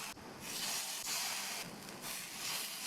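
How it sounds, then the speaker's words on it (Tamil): Masala-coated eggplant pieces sizzling in hot oil in a pan, a steady, loud, dense hiss with small surges as pieces are added. "நம்ம மசாலாவில் கோட் பண்ணி வச்ச கத்திரிக்காயை ஒவ்வொன்றா எண்ணெயில் சேர்த்துடலாம்."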